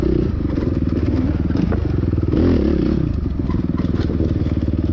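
A motocross motorcycle engine roars continuously and loudly up close during a cross-country race, its steady rapid pulsing broken by clatter and scraping.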